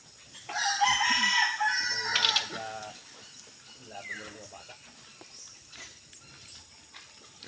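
A rooster at a backyard pig farm crows loudly nearby in one long drawn-out call, followed by quieter background noise and faint voices.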